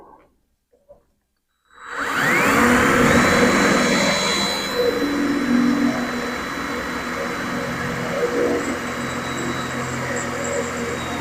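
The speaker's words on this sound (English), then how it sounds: "We'll take a drill and drill our hole." A power drill bores a hole through the hood of a Toyota Tacoma, starting abruptly with a loud, steady whine and grinding that holds close and continuous for several seconds.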